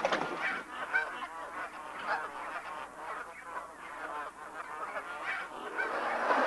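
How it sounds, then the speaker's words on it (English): A dense flock of dusky Canada geese honking continuously in Oregon's Willamette Valley in winter, many overlapping calls close and loud throughout, with no talking. "the dusky Canada geese arrive here in the Willamette Valley in October and stay for the winter"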